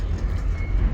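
A loaded freight train hauling shipping containers out of Chittagong port rumbles steadily and close by, a dense low roar with no pauses and no voices over it.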